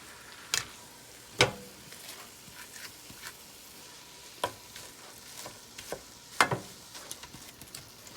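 Meat browning in a pan for Philly cheesesteak sloppy joes, a soft constant sizzle punctuated by sharp spatula scrapes and clacks at irregular intervals, close by with no talking.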